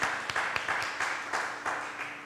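A church congregation at a Sunday service gives a soft, sustained round of applause for the pastor, with scattered individual claps standing out against a steady wash of clapping heard from a distance.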